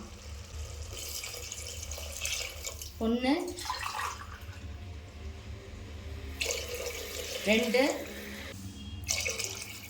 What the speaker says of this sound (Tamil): இந்த 1 டம்ளருக்கு நம்ம 3 டம்ளர் தண்ணி வச்சுக்கலாம்.